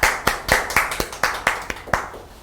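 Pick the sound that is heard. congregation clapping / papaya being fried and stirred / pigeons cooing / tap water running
congregation clapping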